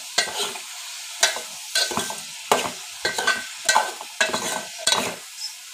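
Brinjal frying in a pan with turmeric and salt, stirred in about eight distinct scraping strokes, each bringing a burst of close sizzle with brief quieter gaps between.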